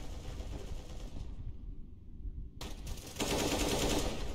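Rapid bursts of automatic gunfire in a video game, loud and continuous, with a short lull before the shooting resumes even harder; no one speaks.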